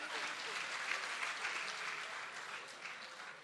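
Audience applause fills a jubilee celebration hall, a steady dense wash of many hands clapping throughout, with no pauses or voices over it.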